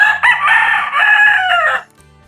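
A rooster crows once, a loud, close, drawn-out cock-a-doodle-doo lasting nearly two seconds, with a faint low hum underneath and quiet afterward.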